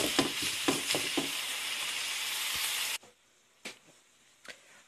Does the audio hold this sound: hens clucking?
no